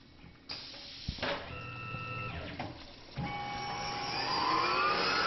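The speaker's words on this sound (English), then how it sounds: "Here's a quarter inch hole at 5140 RPM, which is the max RPM of the machine." A Tormach PCNC 1100 CNC mill drilling a quarter-inch hole at its 5140 RPM maximum, with mechanical clunks and whirring motor tones stepping through changes, then a steady rising spindle whine as the drill pecks in.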